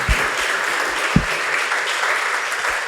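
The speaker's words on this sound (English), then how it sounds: "Let's clap for him." A roomful of people at a leadership seminar applauds steadily, a dense, continuous wash of clapping that holds at an even loudness throughout, with a few sharper claps standing out.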